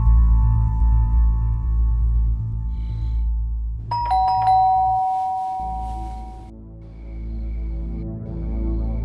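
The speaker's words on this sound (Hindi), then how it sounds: "एकदम से डोरबेल बजी" Doorbell in a house rings once with a clear two-tone ding-dong chime, loud and close, that rings on for a couple of seconds over a low steady hum, with no talking.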